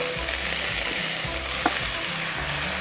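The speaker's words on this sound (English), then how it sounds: "And then I'm going to drop my peppers." Peppers dropped into about a tablespoon and a half of hot olive oil in a pan sizzle loudly and continuously up close, with stirring scrapes and a soft rhythmic thump beneath.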